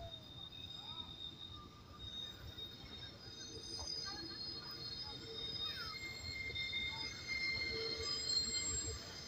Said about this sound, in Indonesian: KA 274 Matarmaja dari Malang tujuan Pasar Senen melalui Semarang Tawang.